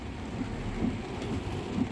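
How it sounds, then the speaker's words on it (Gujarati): Steady rain pours over farm fields where harvested groundnut lies soaked and sprouting, a continuous broadband hiss with soft low rumbles and no talk. "અને કન્ટિન્યુ વરસાદ ચાલુ છે"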